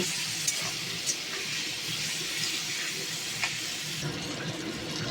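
Prawns frying in hot oil give a steady, close broadband sizzle throughout, with a few soft clinks from stirring and no voices.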